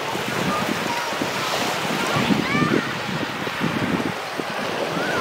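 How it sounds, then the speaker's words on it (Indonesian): Small waves wash onto a tropical beach in a steady, broad roar mixed with wind buffeting the microphone, with faint voices in the background. "ombaknya yang tidak begitu besar"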